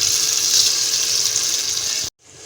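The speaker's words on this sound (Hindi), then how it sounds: "ये देखें ये पानी मैं इतना डाल रही हूँ कि हमारे चावल थोड़े से डीप हो जाए" Water pours steadily into a pot of soaked rice being cooked for a plain khushka pulao, a loud continuous splashing rush that stops abruptly near the end, leaving a quieter hiss.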